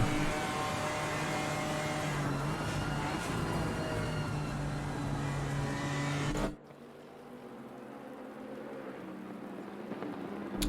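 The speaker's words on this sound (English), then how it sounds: "the Lexus once again tries to go around side by side on the BMW" Lexus and BMW GT4 race cars battle side by side at Paul Ricard, a loud sustained engine drone heard on board that drops abruptly to a quieter, muffled hum.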